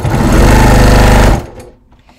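A sewing machine stitches a leather crossbody bucket bag with contrasting topstitching thread, running as a loud, steady mechanical whir close by for over a second before stopping abruptly into near quiet.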